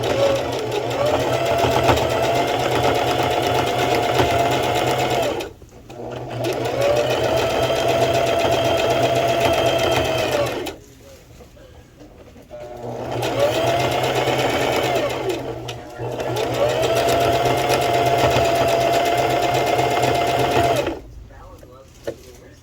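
A sewing machine stitches fabric in four steady bursts of about five seconds each, its close, even motor whir separated by short quiet pauses.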